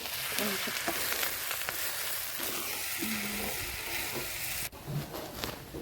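Onions fry in oil until reddish-brown for a red chili chutney, giving a close, continuous sizzle broken by frequent stirring clicks and scrapes.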